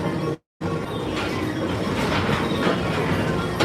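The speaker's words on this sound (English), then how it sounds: "Don't worry, your express train keeps on rolling through the future." The Disney People Mover rolls steadily along its track with a continuous rumbling, whooshing ride noise, loud and close, broken by a brief dropout near the start.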